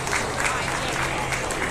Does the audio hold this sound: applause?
yes